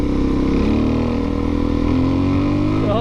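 A Honda CRF250L Rally motorcycle accelerates, its engine note climbing steadily in pitch as it pulls hard, loud and close, heard alone.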